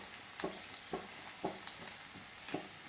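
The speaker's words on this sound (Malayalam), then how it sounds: "നന്നായിട്ടൊന്ന് മിക്സ് ചെയ്ത് കൊടുക്കാം." Butter garlic chicken being stirred in a pan, with soft periodic scrapes of the spoon about every half second over a faint sizzle, fairly quiet and alone without talk.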